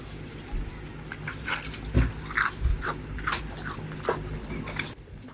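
A crunchy fried binangkal dough ball bitten and chewed close up, a few sharp crunches followed by softer chewing, with no talk.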